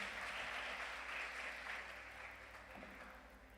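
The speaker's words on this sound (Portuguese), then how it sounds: "Uma salva de palmas aos nossos representantes aqui." Faint, distant applause rises from a university audience for student representatives, a steady wash of clapping under a low hum that eases slightly over a few seconds.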